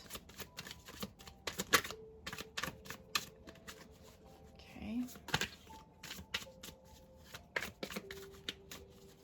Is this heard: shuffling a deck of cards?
yes